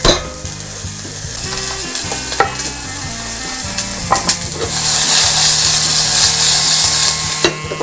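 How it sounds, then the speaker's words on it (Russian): Shallot and garlic fry in a skillet with a loud, steady sizzle that swells toward the end, broken by a few sharp scrapes and taps of a utensil, with no voices. "Смотрите за огнем, так чтобы у вас не подгорело, но в то же время и не лежало на теплой сковородке"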